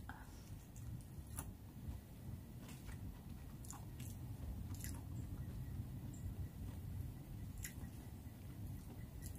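Soft, wet chewing of crunchy cooked Lion's Mane mushroom, faint crunchy bites repeating at an irregular pace, close up and quiet against a low background hum.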